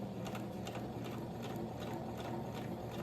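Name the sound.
sewing machine stitching a shirt seam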